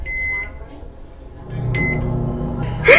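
A microwave oven set to three minutes hums steadily at moderate loudness, with a few short electronic tones and clicks over the running drone and a louder burst near the end.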